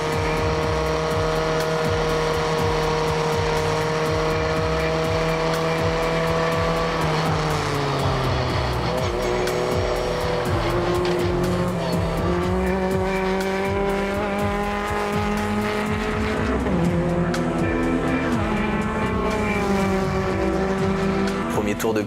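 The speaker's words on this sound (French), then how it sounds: "on s'aperçoit que ça accélère quand même pas mal" A race car engine revs hard and climbs through gears on a track, the pitch rising and dropping with each shift, loud and close for the whole stretch.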